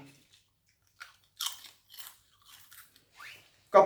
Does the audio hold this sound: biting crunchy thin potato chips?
yes